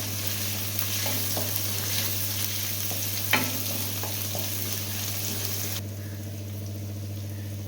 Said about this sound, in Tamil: இருக்கக்கூடிய பெரிய வெங்காயம் ஒரு பாதி வெங்காயம் அதை நல்லா பொன் வறுவலாக வறுத்துக்கலாம்.